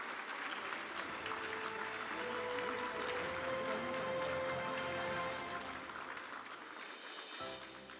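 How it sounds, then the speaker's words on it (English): A seminar audience applauds cricketers with a sustained round of clapping that fills the hall, steady and dense. It eases slightly near the end, with faint murmuring mixed in. "let's give a thundering round of applause, please"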